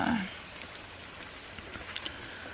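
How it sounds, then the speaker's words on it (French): Steady rain pattering on a surface, close and continuous, with a brief vocal sound at the start. "Il pleut."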